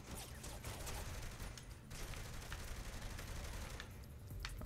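Enemy gunfire in Saints Row: The Third crackles in rapid, uneven bursts, a dense fusillade of shots sounding fairly distant and faint under constant background noise.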